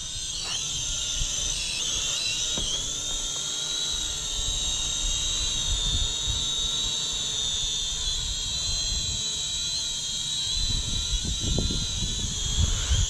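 A Snaptain A15H drone flies close by with a steady, high-pitched propeller whine and buzz that holds constant throughout, with no voices.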